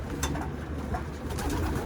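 Domestic pigeons cooing in a loft, several soft repeated coos close by over a steady low background, with no talk.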